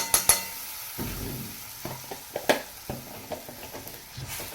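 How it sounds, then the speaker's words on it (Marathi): Ginger, garlic and coriander paste is stirred into sautéed onion in a pan for a fish curry. A spoon scrapes and clinks against the pan in a few close, sharp knocks over a soft, steady sizzle. "आता आपल्याला ह्याच्यामध्ये अद्रक लसूण आणि कोथिंबीरची पेस्ट टाकायची तर एक चमचा भरून टाकते"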